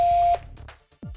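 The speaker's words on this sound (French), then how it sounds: "Le transmetteur émet un bip long." A Diagral GSM alarm transmitter gives one long steady electronic beep, clear and close, followed by faint clicks.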